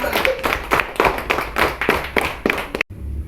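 A classroom of students claps their hands in a loose, fairly rhythmic run of distinct claps, close and moderately loud, ending in a sudden stop followed by quiet room tone.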